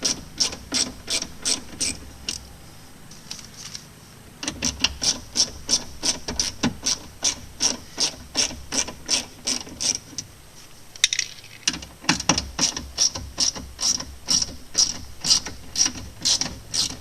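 A hand ratchet with a Torx bit removes the window motor from a Mercedes E320 door, giving rapid, crisp clicking in repeated bursts with short pauses between strokes, close and clear, with no voices.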